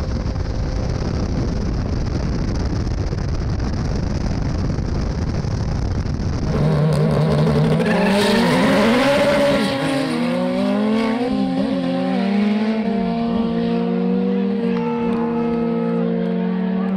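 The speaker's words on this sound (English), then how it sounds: "It's a wild run from that little 323, but Adrian's MR2 with the K-Series Honda en" A Mazda 323 rotary-engined drag race car roars and climbs through its gears with rising and falling pitch, loud and continuous, with wind buffeting the microphone.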